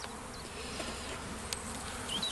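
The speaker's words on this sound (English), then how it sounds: "Sometimes if you snap a frame open, it will cause the bees to jump up." Honey bees buzz in an opened hive early in the year, a soft, continuous hum with a few brief individual insect passes up close.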